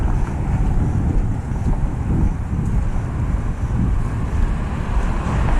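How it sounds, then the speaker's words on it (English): Steady, heavy wind buffets the microphone outdoors on a walk through Dallas, a continuous low roaring rumble with no pauses and no voices. "There's a wind, but I'm only wearing one layer and it feels like a nice wind."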